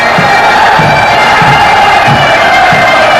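A large crowd roars and cheers continuously before kick-off at the 1985 Scottish Cup Final between Celtic and Dundee United, a loud dense stadium din with rhythmic chanting swells.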